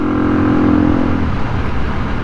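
A Kawasaki KLE500 motorcycle engine running rich idles loud and close, with a steady low throbbing rumble and a brief raised hum early before settling back.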